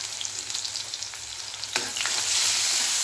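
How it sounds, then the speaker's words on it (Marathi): Chopped onion hitting hot oil with toasted cumin and mustard seeds for a Maharashtrian fresh pigeon pea amti, a steady close sizzle that swells louder as the onion goes in, with faint stirring. "कांदा थोडा परतून घेऊया."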